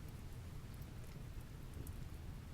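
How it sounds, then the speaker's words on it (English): Rain pouring in the video game RimWorld, a steady, dense hiss of heavy rainfall on surfaces with no gaps, alone without talk. "it starts pouring down rain on her"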